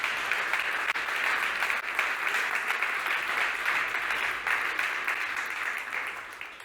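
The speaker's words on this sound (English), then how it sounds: "Big applause." Sustained, even applause from an event audience at a motor industry day rolls on steadily for several seconds, then tapers slightly at the end.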